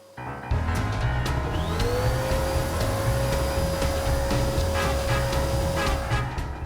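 A vacuum cleaner runs continuously and loud, its motor whine climbing in pitch early on then holding a steady high tone over a dense roar.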